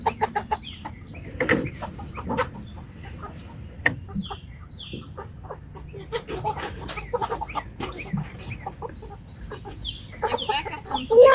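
Backyard flock of hens with a rooster clucking and calling in repeated bursts, with brief sharper cries scattered through a busy farmyard chorus at moderate distance, no talk.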